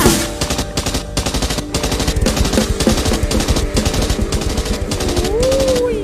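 Rapid bursts of M16 gunfire fired into the sky crackle in quick repeated volleys, loud and sharp, with a rising whistling tone near the end.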